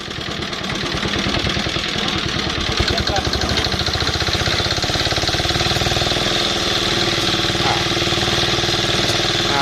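A Yanmar 4 hp diesel engine powering a mortar pump with a 2-inch hose runs close by, giving a loud, steady, rapidly chugging drone that holds an even rhythm throughout, and voices can be heard over it.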